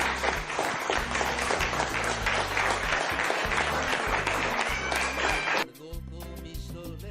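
Church congregation clapping loudly and continuously over rhythmic worship music with a deep bass beat, then cutting off abruptly, leaving quieter music playing.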